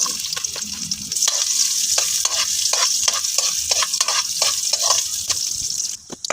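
Garlic or onion sautéing in a hot pan, with a loud, constant sizzle and a regular rhythm of scraping stirring strokes close by.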